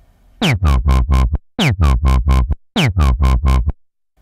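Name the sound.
synth bass with 1/8 LFO filter modulation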